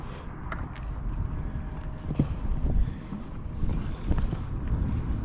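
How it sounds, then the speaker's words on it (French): Wind blowing at sea around a sailboat, a steady low rumbling buffet across the microphone with soft creaks and small knocks from the boat, continuous and moderately loud with no voices. "il y a un peu de vent, mais on devrait gérer"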